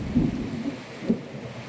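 Low thunder rumbles in two brief swells over a steady wash of falling rain in a thunderstorm with lightning all around, heard outdoors in Moti Gop village, Gujarat, at moderate volume.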